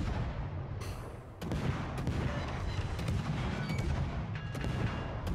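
Naval artillery fire in the World of Warships video game: a steady, dense barrage of booming gunshots and blasts that rolls on continuously without pause, loud and close, with no voices.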